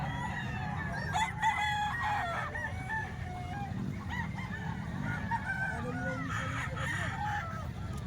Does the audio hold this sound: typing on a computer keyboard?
no